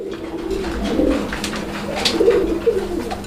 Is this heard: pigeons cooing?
yes